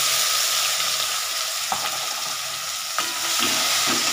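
Onion and garlic frying in a hot pan give a steady, dense sizzle, with a few sharp clinks of a utensil stirring partway through; no voices.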